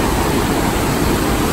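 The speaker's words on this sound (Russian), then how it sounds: "Это водопад включил через центр города." A waterfall in downtown Spokane, Washington roars as a dense, steady broadband rush, loud and unbroken throughout with no voices.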